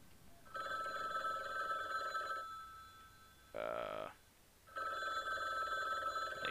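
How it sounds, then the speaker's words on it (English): Old-style telephone bell rings in the video game Rainswept, two long electronic trilling bursts separated by a pause, with a short separate electronic tone in between, clear and alone. "The phone rang."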